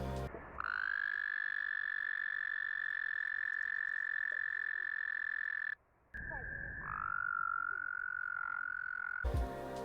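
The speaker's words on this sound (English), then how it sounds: "The American toad is known to make a strange call during their mating season" An American toad's mating call: a long, steady high-pitched trill carries on for several seconds, pauses briefly, then resumes, loud and close against quiet background.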